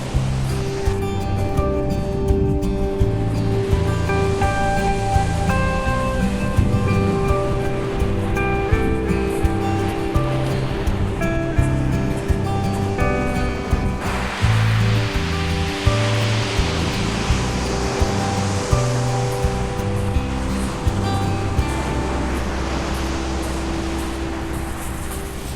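Waves break and wash onto a beach along a coastal path, a steady roaring surf with rising swells, heard loud and close without talk.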